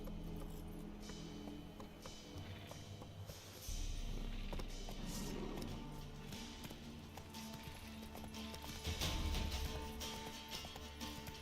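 Roach, a horse in the video game The Witcher 3, trotting with a steady clip-clop of hooves under a busy, music-filled game soundscape, with the gait growing louder around the middle and toward the end.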